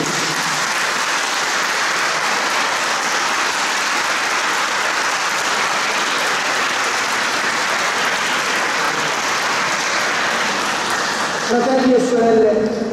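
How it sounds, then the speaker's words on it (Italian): Sustained, steady applause from a gathered congregation greets the unveiling of a Divine Mercy statue of Jesus at a blessing ceremony, a dense wash of clapping that fades near the end as a voice begins speaking. "Facciamo un applauso."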